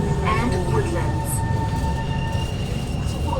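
An SMRT Kawasaki Heavy Industries C151 train, set 017/018, runs loudly with a steady rumble and sustained whining brake tones, heard from onboard.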